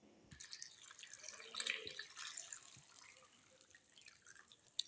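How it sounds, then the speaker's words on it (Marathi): Karvanda berries, sticky with sap, are rinsed in water in a Konkan kitchen: faint, irregular dripping and light splashing of water, close and quiet, with no voices. "आत्ता आपण पूर्ण धुवून घेणार आहोत त्याच्यामध्ये पाणी ॲड करणार आहोत"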